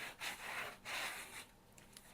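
Paper being burnished down onto a junk journal cover, heard as soft close rubbing strokes in a few quick passes, faint and unaccompanied by talk.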